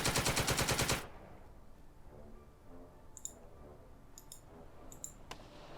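Gunfire in the video game Second Front: a rapid, loud machine-gun burst of evenly spaced shots opens the sound, followed by quieter ambience with a few sharp, distant clicks and pops.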